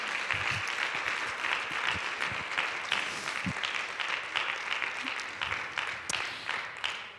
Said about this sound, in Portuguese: Você pode dar uma salva de palmas a Jesus